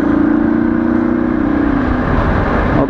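A motorcycle is ridden up toward 60–70 km/h while recorded through an external microphone on an SJCAM 7 Star action camera, with a loud, steady engine drone and heavy wind rush filling the whole stretch.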